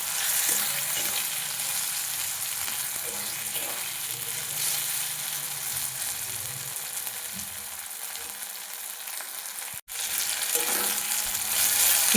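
Melon seeds and poppy seeds frying in a pan with tomato, onion, ginger and garlic, a steady close sizzle with occasional stirring scrapes, no voices.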